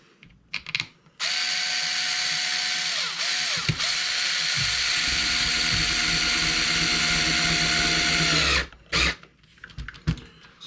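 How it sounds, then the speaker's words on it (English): A power driver runs a screw into the front mount of a Traxxas 4-Tec 3.0 RC car. The loud, steady motor whine lasts about seven seconds, with brief dips as the load changes, and a few handling clicks come before and after. "put your screw back in the top."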